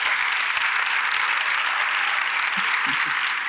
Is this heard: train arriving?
no